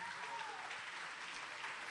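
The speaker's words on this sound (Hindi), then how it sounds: "सामाइन से गुजारिश है कि ज़ोरदार तालियों के साथ इन बच्चों का हौसला बढ़ाएं।" A crowd at a school elocution award ceremony gives children steady, dense applause that holds at an even level throughout, heard from somewhat far off.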